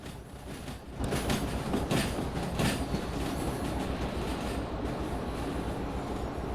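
Steady rumble of a locomotive running on rails in the train simulation game Derail Valley, with rhythmic clacks of wheels over rail joints and a continuous heavy rolling roar that swells after the first second.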